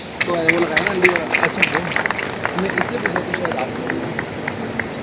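Applause and clapping from an audience at the inauguration of a new Yatharth super speciality hospital in Faridabad, a dense patter of many hands carrying on steadily with crowd murmur underneath.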